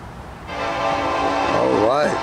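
Norfolk Southern 234 freight train approaching with its air horn blaring loud and close, a steady multi-tone chord rising over rumbling rail noise and bending in pitch as it passes.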